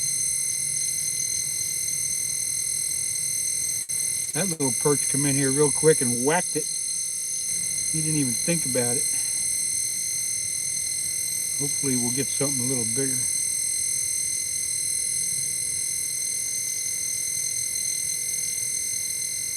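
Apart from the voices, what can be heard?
older fishing sonar flasher making beeping noise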